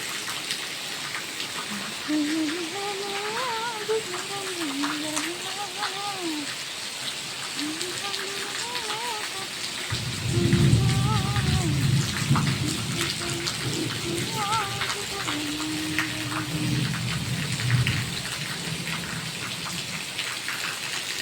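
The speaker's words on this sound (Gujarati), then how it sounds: "વરસાદ ફૂલ વરસ્યા હતા" Steady rain patters on a surface at a farm throughout, with a voice or animal-like calls rising over it in the first half and heavier splashing later.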